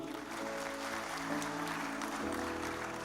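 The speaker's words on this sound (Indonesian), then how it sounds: "Kasih tepuk tangan dulu." Applause at a church anniversary service as a couple is called forward, a continuous wash of clapping blended with sustained musical tones from a band playing underneath.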